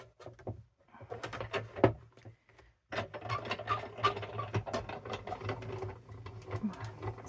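A Sizzix embossing machine cranks a card through an embossing folder with irregular mechanical clicks, creaks and grinding rattles, close and fairly quiet, pausing briefly before resuming.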